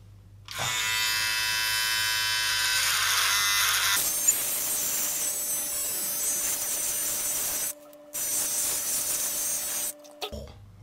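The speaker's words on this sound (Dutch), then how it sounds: "Ik gok aan dat je dat gewoon met een scheerapparaat kan doen." An electric shaver cutting hair buzzes steadily up close, a high whining hum that changes pitch as it meets the hair, briefly cutting out twice near the end.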